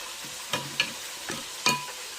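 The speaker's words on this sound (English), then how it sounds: "Just chicken frying in the background for the game today." Chicken sizzles steadily as it fries in a pan, with a few sharp clinks of a utensil stirring and scraping at irregular moments.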